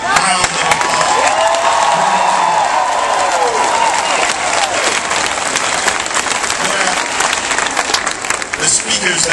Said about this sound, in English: Let's give our teachers of South Carolina a round of applause.